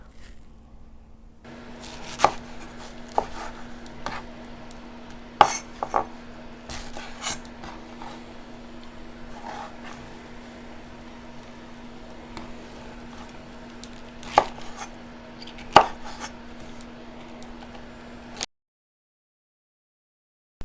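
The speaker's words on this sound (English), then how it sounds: "I wash, cut, and rinse my mushrooms" A knife slicing fresh mushrooms from an Asian market makes a series of sparse, sharp cutting clicks spread over about twenty seconds, with a steady low hum running underneath and no talking.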